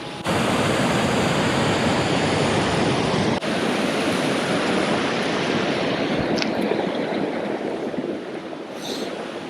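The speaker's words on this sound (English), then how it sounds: "we gotta try to find a way to cross this pretty big river with a waterfall on it" Steady, loud rush of a big river with a waterfall in the White Mountain National Forest, a dense broadband roar that holds constant throughout with no voices.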